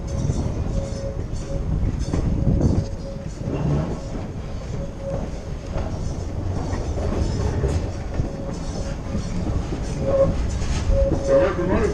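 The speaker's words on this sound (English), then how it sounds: "The locomotive we're right behind, the old 2641, is a diesel electric." Diesel electric locomotive number 2641 hauling a train, heard from a car right behind it as a steady rumble with clickety-clack of wheels and faint squeals, while people talk over it.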